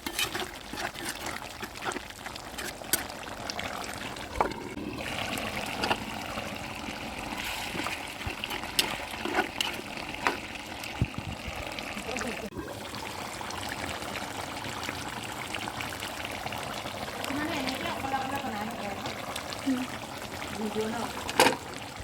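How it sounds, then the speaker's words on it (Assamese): Duck meat curry with pumpkin and potato boiling in a pot, a continuous bubbling, watery burble running throughout at close range, with occasional clinks and faint background noise. "সেয়া পুৰা উতলি আছে"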